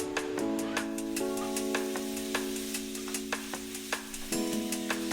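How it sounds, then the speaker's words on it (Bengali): A ladle sautéing chalta (elephant apple) with fish and garlic in a pan, giving a steady run of clicking, scraping taps over a soft sizzle, with a sustained tonal hum underneath. "আবার কষাচ্ছি চালতাটা আসলে একটু বেশিক্ষণ কষাতে হবে"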